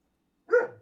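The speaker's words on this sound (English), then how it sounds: "You're barking at nothing, Walter" A single sharp dog bark bursts out after a silent pause, loud and close, then trails off quickly with nothing else around it.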